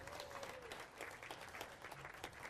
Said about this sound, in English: Once more, lovely round of applause.